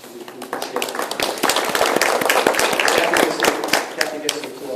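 An audience at a political campaign event gives a burst of clapping that holds steady for several seconds, dense and lively, with a voice heard over it.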